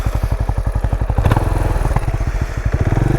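Benelli Imperiale 400 single-cylinder motorcycle climbing a mountain road, its engine thumping in a steady, loud pulsing rhythm close up, with the pitch rising briefly as it revs, then settling back.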